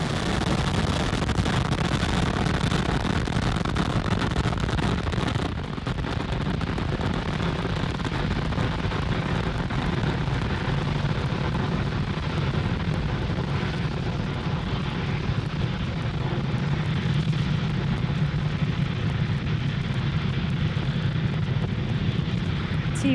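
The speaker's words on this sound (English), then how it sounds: "Falcon 9 has successfully lifted off from Cape Canaveral Space Force Station, carrying our stack of Starlink satellites to orbit" SpaceX Falcon 9 rocket engines roar during a Starlink launch ascent from Cape Canaveral Space Force Station, a loud, continuous, broadband rumble that holds steady throughout.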